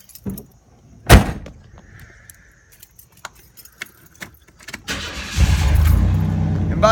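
A car engine cranks and catches about five seconds in, then settles into a steady idle inside a home garage, following a sharp clunk and a few scattered handling noises.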